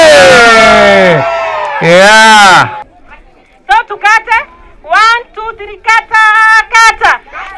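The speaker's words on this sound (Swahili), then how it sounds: "Wapi shangwe na vigelegele!" At a girls' alternative rite of passage graduation, a crowd cheers and ululates: long, loud, wavering high-pitched cries at first, then shorter bursts of trilling whoops and shouts close by.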